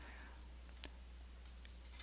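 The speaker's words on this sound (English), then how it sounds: "So I'll just left click there and we'll right hand mouse click." Computer mouse clicks during CNC software work: a few short, faint clicks, one near the middle and a couple more toward the end, over a steady low hum with no talking.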